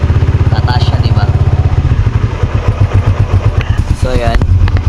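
A Suzuki Raider 150 Fi motorcycle engine is revved close up, with a loud, rapid idle rhythm that rises and thickens into revs, and a voice talks over it.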